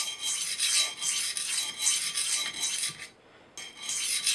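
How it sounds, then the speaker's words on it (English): A knife blade is drawn in steady repeated strokes across a coarse DMT diamond stone, a close, dry rasping scrape with a brief pause before the strokes resume. "Set the bevel on this side with the coarse DMT."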